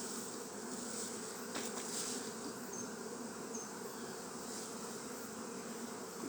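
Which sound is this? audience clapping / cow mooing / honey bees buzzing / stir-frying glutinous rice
honey bees buzzing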